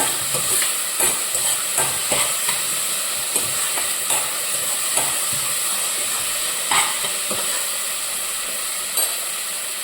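Crushed ginger-garlic paste fries in a hot pan, giving a steady loud sizzle and hiss throughout, broken by scattered clicks and scrapes from stirring.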